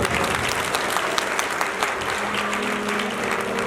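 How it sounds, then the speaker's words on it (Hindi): A church congregation at a Hindi-language worship service claps loudly and densely for a few seconds, the crisp hand claps close and continuous throughout. "ताली बजाओ"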